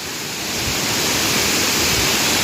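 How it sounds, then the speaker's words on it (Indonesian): Lamassua waterfall in Bone, South Sulawesi, roars in a dense, steady rush of falling water, loud and continuous with no voices. "jadi air terjun Lama Sua ini adalah salah satu ya"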